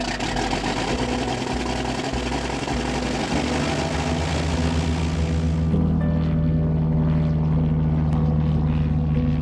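Small plane on a left-hand departure from runway 16 at Cranbrook, a loud steady engine and propeller drone that shifts to a lower, smoother tone partway through, with no talking.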